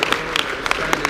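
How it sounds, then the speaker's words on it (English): Audience applause at a business academy event: a brief burst of distinct, close hand claps in an uneven rhythm, fairly loud, with no talk over it. "One more round of applause."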